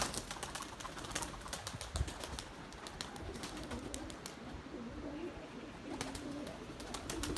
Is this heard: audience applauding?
no